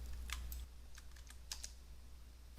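Keys tapped on a computer keyboard in short, uneven bursts of clicks, close and clear over a low steady hum, with no talking.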